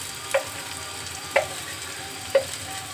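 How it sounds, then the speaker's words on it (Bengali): Onions with a pinch of salt fry in a pan, a steady close sizzle with three soft stirring clacks about a second apart, no voices. "পেঁয়াজটা তাড়াতাড়ি ভাজা হয়ে যায়"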